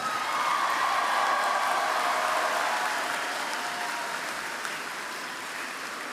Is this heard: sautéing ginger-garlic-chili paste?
no